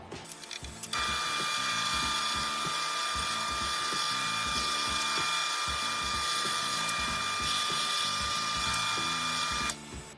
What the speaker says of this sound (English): Time to drill the holes.